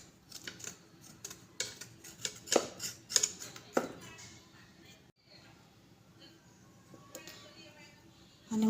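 A knife cuts a brinjal (eggplant) into pieces, giving a series of sharp, close clicks and taps against a board in an uneven rhythm, then a quieter stretch with faint background sound.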